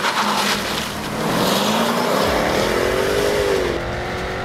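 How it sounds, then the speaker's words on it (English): Jaguar F-Type V8S uncorked exhaust on a winding mountain road in Spain, a loud roar climbing steadily in pitch under hard acceleration, then easing briefly near the end, with no voices. "With the scream of the uncorked exhaust echoing off the cliffs"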